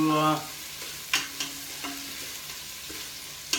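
Onions sizzle and fry in a pan with a soft continuous hiss, broken by a few clicks and clinks of stirring, heard close and at moderate volume without talk.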